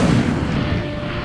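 A fire spell cast in Hogwarts Legacy gives a loud, continuous roaring burst with a dense low rumble, sustained steadily for the whole moment without any talk.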